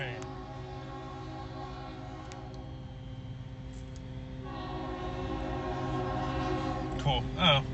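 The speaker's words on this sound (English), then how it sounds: "There's a train! There's a train!" A train rolls past with a steady low rumble and drone of wheels on rail, a horn sounding near the end, all under background chatter.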